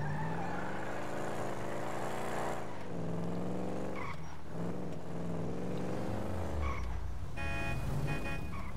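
A car driven in a video game, its engine droning continuously with the pitch sweeping up and down through gear changes, tires squealing near the end, and no talk.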